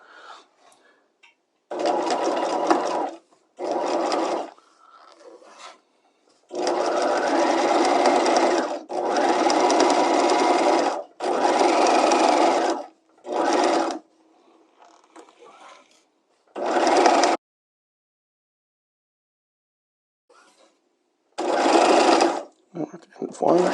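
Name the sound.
sewing machine stitching a slot seam with back tacks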